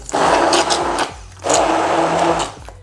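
A kitchen blender purées chicken liver pâté in two loud, steady motor bursts of about a second each, whirring close up with a short gap between them and no talking.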